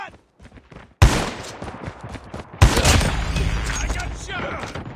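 Gunfire in the multiplayer video game Call of Duty Mobile, where two loud sudden blasts open bursts of rapid crackling shots and a dense noisy firefight, after a short quiet lead-in.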